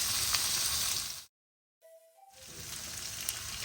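Food sautés in a light sauce in a pan, giving a steady loud sizzle that stops abruptly for about half a second, leaving a brief tonal hum, then resumes at full strength.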